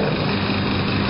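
Vacuum pump on a 3D sublimation heat press machine running as a steady, loud, even mechanical hum and whir with no pauses and no voices.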